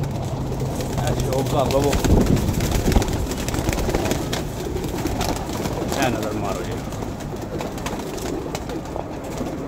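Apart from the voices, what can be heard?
pigeons cooing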